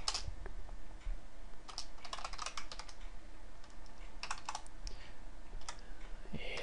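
Computer keyboard typing C++ Qt code, bursts of rapid key clicks in irregular clusters separated by short pauses, close and moderately loud.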